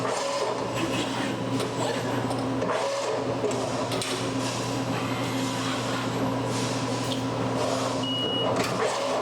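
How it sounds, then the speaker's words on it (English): Servo-driven back gauge on an Amada EGB6013 press brake shifting quickly, a steady mechanical whir and hum with faint high whines running continuously through the shop noise. "Those are fast little servos those are on too on the back gauge."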